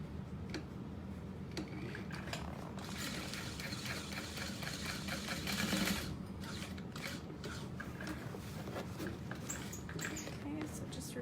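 A sewing machine sews a box stitch on a structured tote bag, a faint, steady rapid ticking and patter of the needle running without pause under a low background hum.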